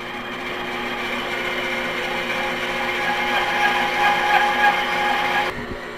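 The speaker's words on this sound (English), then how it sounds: "let's cut this out on the bandsaw" A bandsaw cuts a 15 degree angle on a wooden guitar neck at the peg head, giving a loud, steady whirring drone that holds for about five seconds before stopping abruptly.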